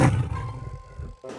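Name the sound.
tiger roar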